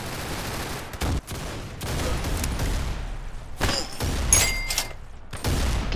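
Gunfire in the Roblox shooter Arsenal: several dense bursts of rapid shots across the clip, loud and close, separated by short gaps, with a few sharp metallic clicks from weapon handling.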